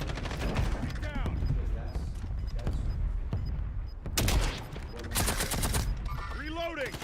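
Bursts of automatic gunfire from the video game Warzone, with sharp loud volleys and scattered single shots over a steady game ambience, alongside in-game voice callouts.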